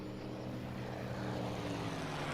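Hawker Sea Fury FB-11 with its Centaurus radial engine, simulated in Microsoft Flight Simulator at a virtual Headcorn airshow, drones steadily with a dense, even propeller roar that holds at a constant moderate level throughout, with no voices.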